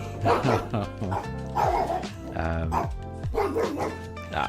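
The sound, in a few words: dogs barking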